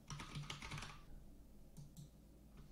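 Fingers type fast on a computer keyboard for about a second, a quick close clatter, then a few scattered single keystrokes follow in near quiet.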